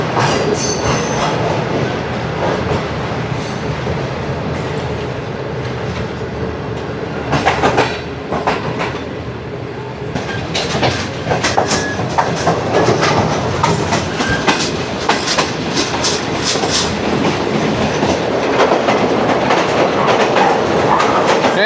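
Shalimar Express between Rohri and Lahore running along the line near Shahdara Junction: a loud, steady rumble of rail wagons with rhythmic clickety-clack and occasional wheel squeal, continuous and close throughout.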